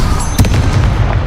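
A Confringo fire spell goes off in the video game Hogwarts Legacy, a loud, dense burst with one sharp crack amid a rumbling blast, heard up close.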